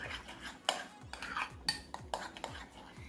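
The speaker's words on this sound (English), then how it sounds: "So just mix it up like so that it does not lump up." A spoon stirring thickened soaked chia seeds in a bowl for chia pudding, steady rhythmic scraping and clinking strokes, close and fairly loud with no talk.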